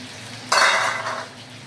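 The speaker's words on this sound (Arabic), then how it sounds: "هاخد الخلطه دي كلها وهنزلها انا بقى، هنزل الخلطه كلها" A spiced potato and pepper mixture drops into a hot pan with one sudden loud burst of sizzling that gradually fades over about a second, heard alone with no talk.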